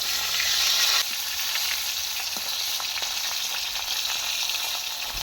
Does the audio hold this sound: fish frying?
yes